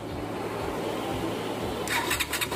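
A motorcycle with an unstable idle that keeps stalling is started up nearby. Low engine rumble and cranking give way to a sharp catch and revving near the end.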